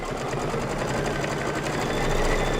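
A home embroidery machine stitches a Kimberbell Love Bug design for a February table topper, its needle running in a fast, steady, even mechanical chatter that is close and continuous throughout.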